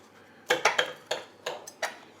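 Several sharp clinks of a knife against a plate while cutting chicken liver, irregular and close, with short scraping strokes between them.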